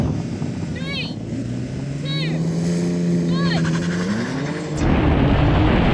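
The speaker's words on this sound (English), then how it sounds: "Oh, it spun up its tires." A Porsche 911 Turbo S launches in a drag race, its engine note rising steadily under a commentator's voice, then a sudden louder roar near the end as the tires spin.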